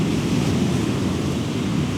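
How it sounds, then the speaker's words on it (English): Big waves crash and churn against the rocky coast at Rumbling Kern, a steady, loud roar of surf and wind filling the whole scene without pause. "the waves are absolutely monstrous"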